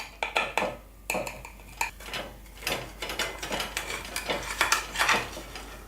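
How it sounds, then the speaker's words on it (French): A knife slicing a portion of Italian-style potato galette, a run of close crisp crunches and scraping clicks against a plate in an irregular rhythm, with no voices. "on va se couper donc une jolie part"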